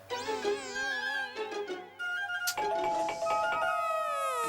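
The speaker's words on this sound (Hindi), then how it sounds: "सच में कोई डोरबेल बजा रहा है।" An electronic doorbell plays a bright, warbling multi-tone chime melody, repeating in quick sweeping phrases, fairly quiet and with no talking.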